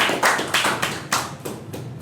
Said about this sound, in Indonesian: Kita beri tepuk tangan untuk Daryl.